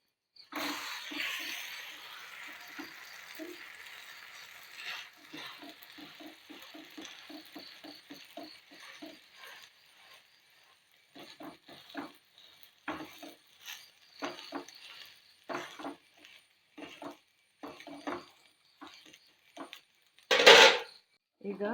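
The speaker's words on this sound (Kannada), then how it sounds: "ಅದನ್ನೀಗ ಕವುಚಿ ಹಾಕುವ." Jackfruit dosa being turned over on a hot pan, with a run of light metallic scrapes and taps from the spatula against the pan, close and fairly quiet, and one sharper clatter near the end.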